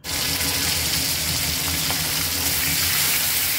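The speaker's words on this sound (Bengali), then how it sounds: "একটু লাল লাল করে ভেজে নেব।" Chicken pieces fry with spice paste and a pinch of salt in hot oil, a steady loud sizzle close by that holds without a break.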